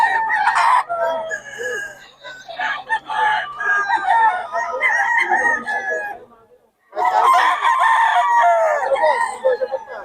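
A stag rooster crows loudly and close by in long, ragged calls, broken by a brief silence, while other fowl cluck and call around it.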